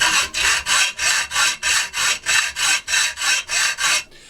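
A hacksaw fitted with an 18 TPI blade cuts through a handle in a steady, even rhythm of about a dozen rasping back-and-forth strokes, close and loud, with no talking.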